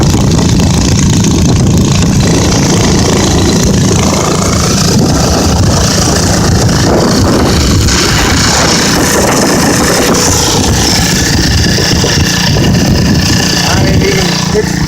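Old cast iron Briggs 7S engine idling, a loud, steady, close low rumble running throughout, with a voice talking over it.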